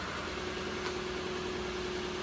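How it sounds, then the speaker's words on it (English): A Lexus LS 460 engine idles steadily on a lift with a constant low hum and a faint tonal whine, unchanging and alone. "So the car's running."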